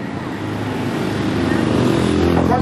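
The number 9 racing lawnmower at the Barnstaple lawnmower Grand Prix gives a noisy, buzzing engine drone that swells steadily as it approaches, heard close under a race commentator talking.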